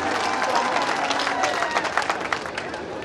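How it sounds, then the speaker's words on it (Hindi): A crowd at a political rally in Gwalior applauds and cheers for Jyotiraditya Scindia, with dense, steady clapping and crowd babble filling the whole stretch at close, loud level. "बजाओ ताली इस व्यक्तित्व भरी श्रीमत ज्योतिरादित्य सिंधिया जी के लिए"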